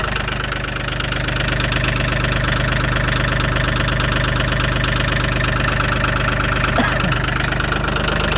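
A Mahindra 1635 HST cab tractor idles after a cold start at about -22°C, giving a loud, steady, close diesel rumble with an even knocking pulse throughout, with no talk.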